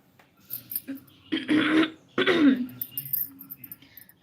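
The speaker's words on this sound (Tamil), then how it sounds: "இருமல் விட மாட்டேங்குதே" Two harsh, close coughs burst out one after another, surrounded by softer breathy throat noises and small shuffles.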